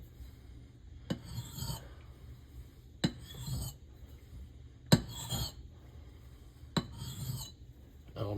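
An axe blade is rubbed on a wet natural Belgian coticule whetstone, giving four distinct rasping strokes, each starting with a sharp contact tap and then a short gritty scrape, close up and quiet with pauses between.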